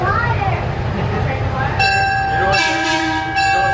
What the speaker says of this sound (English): folks, please stay seated while the train's in motion